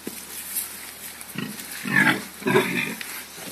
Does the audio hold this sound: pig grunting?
yes